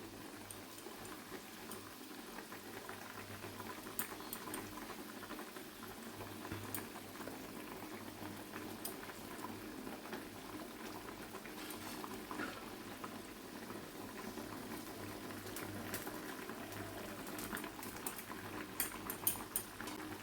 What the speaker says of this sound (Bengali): মাছগুলি দিয়ে একটু ফোটাতে হবে